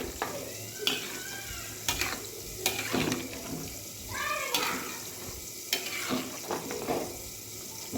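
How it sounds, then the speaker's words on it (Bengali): A little water goes into a vegetable curry frying in a pan, bringing soft sizzling and hissing along with scraping stirs and light clinks. The sounds are quiet and close. "দিয়ে দিচ্ছি অল্প পরিমাণে জল"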